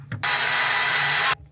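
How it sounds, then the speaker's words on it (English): A taper drill bores through material during a boat rewiring job, giving one loud, steady grinding whir that lasts about a second before cutting off sharply, with no talking. "I'm gonna have to get the taper drill back out here again."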